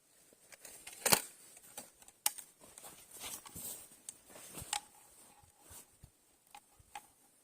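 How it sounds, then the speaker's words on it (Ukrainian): A Hatsan 125 air rifle fires a JSB pellet at a 20-metre range, a single sharp crack heard fairly close, followed by quiet scattered clicks and handling noises. "Останній постріл."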